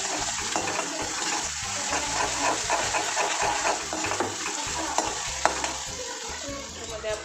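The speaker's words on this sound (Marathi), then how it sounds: "तेवढी हळद टाकल्यावर आपण याला चांगलं असं फ्राय करून घेऊ." Whole chillies and turmeric frying in a pan give a steady, close sizzle and crackle throughout, with small spatters and stirring scrapes and no voices over it.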